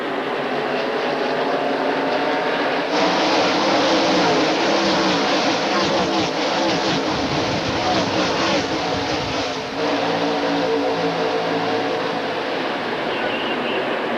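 NASCAR Busch Series stock cars racing at the 1998 Autolite Platinum 250, a loud continuous roar of engines with broadcast commentary over the top throughout.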